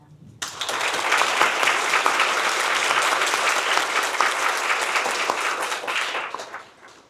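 A large audience at the Seoul National University College of Natural Sciences 50th anniversary event breaks into loud, dense applause to welcome guests, rising sharply, holding steady for several seconds, then tapering off.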